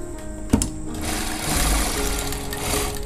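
A sewing machine stitching jacket fabric along piping, running in a steady close mechanical whir with a sharp click near the start and slight speed changes, with no voices.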